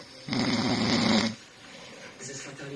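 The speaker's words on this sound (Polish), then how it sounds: "Wiem, że wiele z Was ma problem z tym, że Wasza druga połówka chrapie." A man snoring, one loud rasping inhale lasting about a second, close up, followed by quieter breathing.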